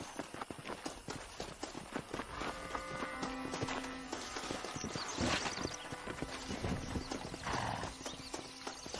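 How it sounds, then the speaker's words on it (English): Horses pulling a stagecoach in Red Dead Redemption, with steady clip-clop of hooves and an occasional whinny over rolling wagon noise, continuous and fairly close. "My brother has given us his stagecoach. They are good horses."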